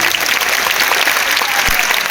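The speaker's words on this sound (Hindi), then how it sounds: "तो एक बार जोरदार तालियां खुद के लिए बजा लो" Loud, dense applause fills a large stadium audience at a motivational seminar at Talkatora Stadium, a steady, even roar of many hands clapping throughout with no break.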